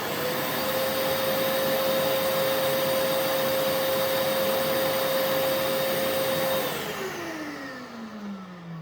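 Festool CT Midi dust extractor running at high power, a steady close whooshing vacuum roar with a whining motor tone that holds for several seconds, then begins spinning down with a falling pitch.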